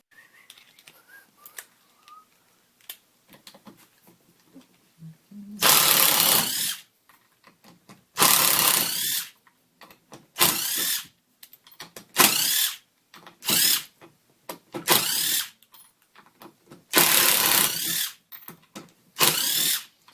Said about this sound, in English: As you notice, when it's impacting, it goes slower.